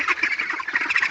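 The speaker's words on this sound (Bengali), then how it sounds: "এই হাঁসগুলার যে এত চিল্লাপাল্লা করে ভাই" Domestic ducks quack loudly and continuously, several overlapping nasal calls in a rapid, busy chatter, close by.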